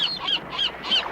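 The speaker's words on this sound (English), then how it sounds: "the birds of the sea gather in shrieking assembly and dive frantically beneath the surface" Gray gulls scavenging a ravaged ocean sunfish at sea give four harsh, rhythmic shrieking calls in quick succession, loud and close.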